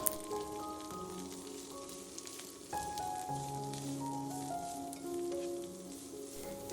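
Chopped onions sizzling in a hot pan, a steady soft frying hiss running throughout with a faint tonal hum in the background and no talking.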